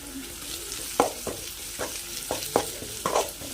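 A pan of frying garlic-peanut paste for roasted garlic rice being mixed, with a soft sizzle beneath roughly six distinct scraping strokes of the spoon spaced about half a second apart.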